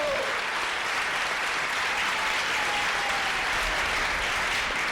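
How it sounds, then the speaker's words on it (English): A theatre audience at a performance of The Mystery of Edwin Drood applauds the orchestra, a continuous, full wash of clapping that stays loud and even from start to finish. "Round of applause for our fully trained orchestra"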